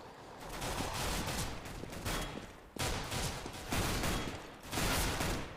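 Gunfire in the video game Counter-Strike: Global Offensive during an esports match, bursts of rapid shots in several dense clusters separated by brief pauses, heard at moderate loudness.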